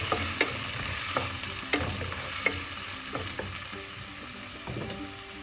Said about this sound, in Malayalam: ഈ ചെറിയ സിമ്മിലിട്ട് ചെറുതായി ഇളക്കി കൊടുക്കും